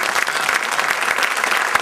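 Steady, dense clapping from a poetry conference audience, many hands applauding continuously for nearly two seconds, full and close without a break.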